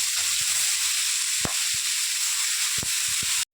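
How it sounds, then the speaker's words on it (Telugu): Raw papaya pieces fry in ghee for a halwa, giving a dense, even sizzle throughout with a few sharp stirring knocks, close and loud, and no voices. "ఈ నెయ్యిలోని బాగా ఫ్రై చేసుకోవాలి"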